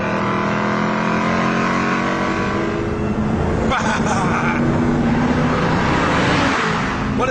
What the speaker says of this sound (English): there's an exhaust that sounds like someone torturing a lion through stadium speakers